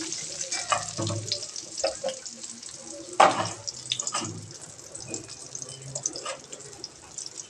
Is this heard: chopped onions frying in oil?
yes